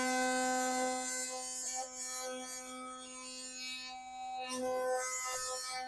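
Philips Sonicare electric toothbrush with a weak vibration fault, switched on and buzzing steadily with a strong, even hum throughout, close and alone.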